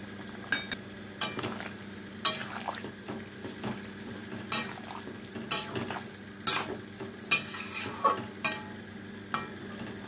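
Ground spice goes into a pot of bubbling potato curry and is stirred in, giving a steady simmering hiss with repeated scraping and clinking spoon strokes, close up and without talk.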